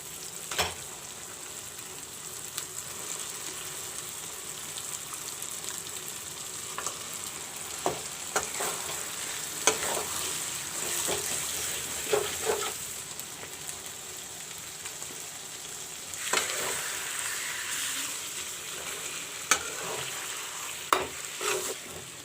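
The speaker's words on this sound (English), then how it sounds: "Now I will put in the mutton pieces." Mutton pieces fry in browned masala in a pan, a continuous hiss of sizzling with scattered spatters and occasional scraping stirs, steady and close throughout.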